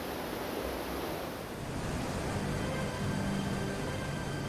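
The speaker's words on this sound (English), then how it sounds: "water from the head race flows into a wheelhouse, where it steadily turns the big water wheel" Water pours steadily from a head race into a wheelhouse, turning a large restored mill water wheel at the Wilkinson Mill; a continuous broad rushing wash with no talk.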